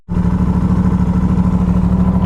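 A motorcycle fitted with a GPR Ghost full exhaust system, dB killer installed, idles loudly and close by with a steady, evenly pulsing throb that starts abruptly and holds without revving.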